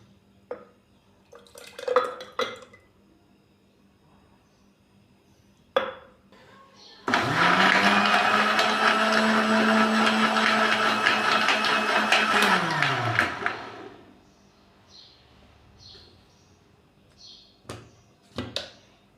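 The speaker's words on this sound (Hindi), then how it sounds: "तो अभी हम इन दोनों को मिक्सिंग जार के अंदर डाल के 2 से 3 मिनट के लिए हम ग्राइंड करेंगे" Close, loud electric mixer grinder whirs steadily for about six seconds as it blends tamarind and plum pulp in a mixing jar, starting abruptly and winding down, with light kitchen clatter and a speaking voice before and after.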